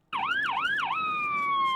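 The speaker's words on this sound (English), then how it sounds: "clean siren sound." Slovenian ambulance siren sounding close and loud alone, three quick rising-and-falling wails followed by a long, steady falling tone that cuts off abruptly.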